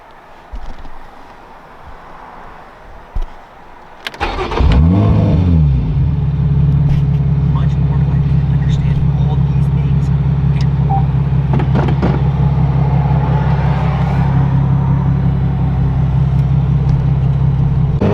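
A straight-piped Lotus Evora 400 with its Toyota engine cranks and fires up at about four seconds, then settles into a loud, steady, deep idle that continues close by for the rest of the clip, with a few faint clicks over it.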